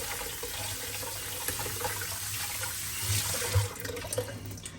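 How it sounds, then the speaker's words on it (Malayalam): Tap water running steadily while a corner of a Dubai home is rinsed and wiped down, a continuous close splashing flow with a few louder gushes toward the end, no talk. "അപ്പോൾ ഞാൻ അവിടെ കോണൊന്ന് കഴുകിയെടുക്കുകയാണ് ഒന്ന് ഓടിച്ച്."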